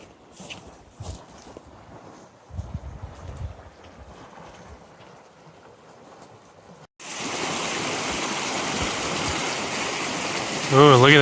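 A stream crossing on the Gila section of the Continental Divide Trail: quiet outdoor sound with brief talk, then a loud, steady rush of flowing water begins abruptly and continues, with a voice over it at the end.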